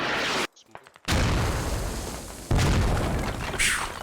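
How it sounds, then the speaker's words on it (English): Heavy mortar barrage explosions in the military shooter Squad, several loud booming impacts close by with rumbling tails, separated by a brief lull. "The mortars are just barely missing."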